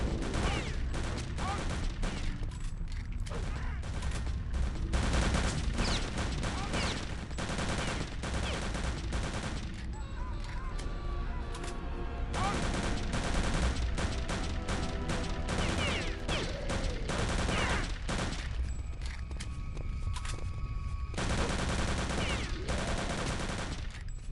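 Enemy gunfire in the Wolfenstein VR shooter game, dense bursts of automatic fire and rapid shots rattling almost without pause, loud and close throughout.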